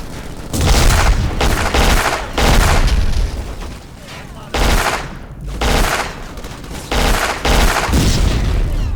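Rapid bursts of gunfire and heavy booming shots from the shooter game Black, loud and repeated in several stretches with brief pauses between volleys.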